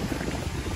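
Alkali wash liquid rushing through the pipes of a farm milking plant, a brief, even, bubbling hiss with no clear breaks.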